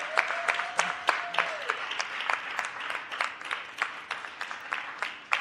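Audience at a Board of Aldermen meeting applauds steadily, a dense wash of many hands clapping at close-to-moderate distance, with a faint tonal hum briefly underneath early on.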